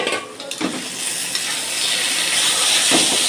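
Stuffed pointed gourd fries in a little oil in an iron kadai, giving a steady close hiss and sizzle with a few faint stirring knocks, and no voices.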